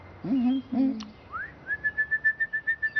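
A small cartoon bird chirps in a birthday episode of a French children's show. A few short whistled notes and a rising sweep are followed by a quick, even run of bright repeated chirps, clear and fairly close.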